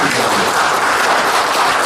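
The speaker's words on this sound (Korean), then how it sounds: "뜨거운 박수 응원 좀 해주시기" Loud, dense applause from an audience at a local candidates' debate, a continuous even wash of clapping throughout.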